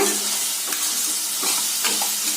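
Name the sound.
stirring ground masala into frying brinjal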